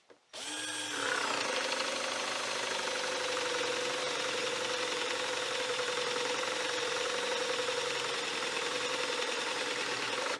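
A Metabo PowerMax BS 12-volt cordless drill spins up from a click and drives a Forstner bit into wood for about ten seconds, a steady close motor whine with a grinding cutting texture, no voices.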